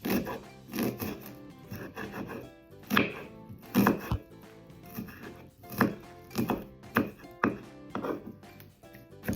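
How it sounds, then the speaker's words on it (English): A knife chops a shallot finely on a cutting board in a home kitchen, giving a run of crisp, close, rhythmic strikes in irregular clusters, with no talking. "And I'm just gonna chop this real fine."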